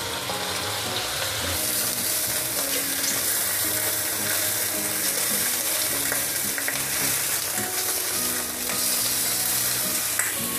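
Pork pata turned over while cooking in a pot gives a dense, continuous sizzling bubble with faint scraping and stirring, steady and close throughout, with no voices heard.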